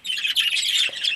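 An opaline pet bird, a lighter grey-green or olive colour morph, chirps and tweets continuously at close range, with bright rapid calls filling the short stretch and no talk.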